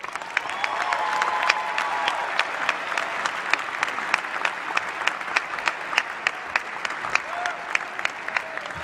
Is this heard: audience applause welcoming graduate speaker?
yes